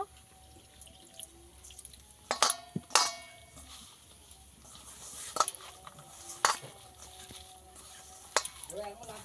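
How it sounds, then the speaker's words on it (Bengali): Drumstick flower fritter batter with rice flour being stirred and mixed by hand with a splash of water, giving a few sharp wet clicks and sloshing spurts scattered over quiet background. "দিয়ে ভালো করে মেখে নেব অল্প একটু জল দিয়ে দেব"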